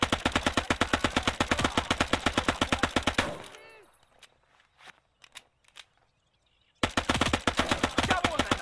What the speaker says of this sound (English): Oh, there's an MG in there.